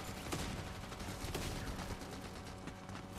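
An auto turret in a video game fires micro SMGs in dense, continuous bursts of rapid automatic gunfire. The shots run unbroken from start to end and sound fairly distant and muffled.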